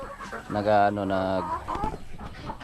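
Shamo chickens, black and red ones, let out a drawn-out harmonic cluck or squawk near by, followed by softer scattered noises from the flock.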